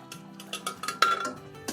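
A spoon stirs ground onion and yogurt paste into chicken korma in a pot, making a quick run of light metallic clinks and scrapes against the pot, close and moderately loud.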